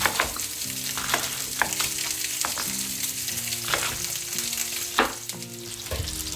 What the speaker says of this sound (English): our onions and pork belly are nicely caramelized